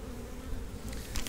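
Honeybees buzzing around an opened beehive during queen rearing, a dense continuous hum close to the ear with no talk.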